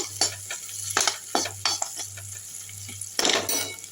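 Onions with salt sautéing in oil in a pan for egg podimas with drumstick flowers, a steady sizzle under repeated scraping stirs of a spatula against the pan, close and fairly loud, with a louder burst near the end.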